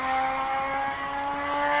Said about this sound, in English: he's really going for it on that motorbike